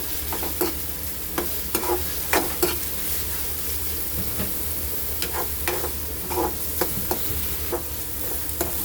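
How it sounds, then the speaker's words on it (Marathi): Onion and green chili fry over high heat with a steady, fairly loud sizzle while a spoon scrapes and clicks against the pan in irregular strokes, with no talking. "फास्ट गॅसवरतीच करूया आणि चम्मच फिरवत राहूया, नाहीतर कांदा लागू शकतो."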